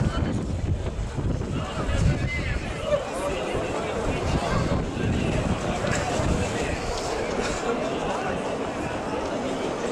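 Strong gusting wind buffets the microphone at an outdoor pro-Russian rally in Kharkiv, a loud, continuous rumbling roar with rises and falls throughout, and voices faintly present beneath it.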